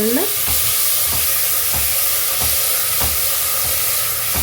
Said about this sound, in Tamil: இது ஒரு 5 மினிட்ஸ் நல்லா வதக்கி விடுங்க